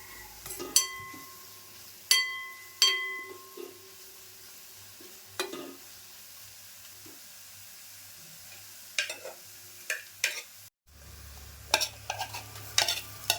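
Shark meat coated in Malvani masala being stirred and sautéed in a pan, with repeated clinks of a metal spoon against the vessel over a low background sizzle.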